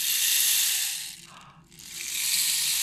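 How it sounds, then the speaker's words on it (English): A small rain stick is tipped over, sending a soft, continuous shower of rattling beads that fades briefly mid-way and then swells again, gentle and close with no talking. "this is going to make a quiet rain sound"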